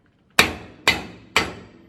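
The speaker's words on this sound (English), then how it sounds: "Just knock it in until it's a little below flush." A hammer strikes a socket to drive a freeze plug into the engine block of a 1968 Chevy Malibu Wagon, three sharp metallic blows about half a second apart, each ringing briefly before fading.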